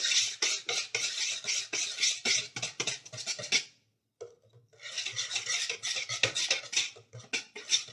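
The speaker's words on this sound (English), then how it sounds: "I'm going to whisk that together." A whisk beats pumpkin dessert batter in a bowl, rapid rhythmic scraping strokes against the bowl that stop for a brief moment midway and then resume at the same brisk pace.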